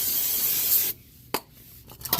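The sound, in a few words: spraying brake cleaner on car oil pan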